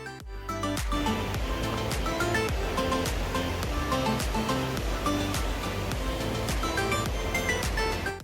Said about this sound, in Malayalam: ചിതറിത്തെറിക്കുന്ന വെള്ളച്ചാട്ടത്തിൻ്റെ ശബ്ദം അടുത്തേക്ക് എത്തുമ്പോൾ കൂടിക്കൊണ്ടിരിക്കുന്നു.